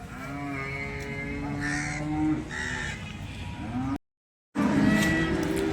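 Cattle at the Sangola cow market low repeatedly in long, drawn-out moos. Several overlapping calls sound fairly close against steady market background noise, broken by a brief silent gap near the end.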